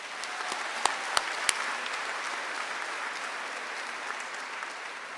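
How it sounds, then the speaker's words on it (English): Audience applause at the Miami Trace Class of 2025 high school commencement ceremony: a steady, dense wash of clapping from a large crowd that holds evenly for about five seconds, with a few sharper claps standing out near the start. "May we have a round of applause."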